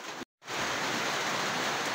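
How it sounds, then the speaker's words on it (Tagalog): Heavy rain pours down over farm fields on a rainy afternoon, a dense, steady hiss that fills the scene, broken by one brief dropout near the start before resuming at full strength. "Lumalakas po yung ulan"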